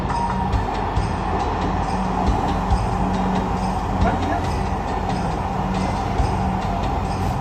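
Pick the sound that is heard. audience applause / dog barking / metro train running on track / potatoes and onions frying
metro train running on track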